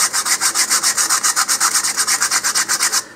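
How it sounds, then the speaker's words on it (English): Birch fin edges being sanded with 100 grit sandpaper: steady, rhythmic back-and-forth rasping strokes, about six or seven per second, close and loud with no talking. "I'm going to start with some 100 grit sandpaper here"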